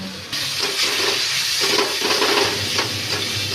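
Onion, green chili and spices fry in oil in a pan for a cauliflower and potato curry, a loud, close, steady sizzle that starts abruptly after a brief quiet moment and continues without speech.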